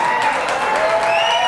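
A studio audience at a televised World Poker Tour pro-celebrity invitational poker tournament applauds and cheers in a dense, sustained burst of clapping, loud and close throughout.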